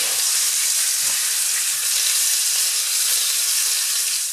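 Filet mignon sears in a hot pan, giving a loud, steady, hissing sizzle that holds evenly from start to finish.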